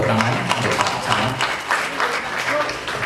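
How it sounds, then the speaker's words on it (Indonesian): An audience claps for the district head at a village anniversary declaration ceremony in Sragen, Central Java, a sustained even round of applause filling the room with faint voices underneath. "Tepuk tangan untuk Pak Camat."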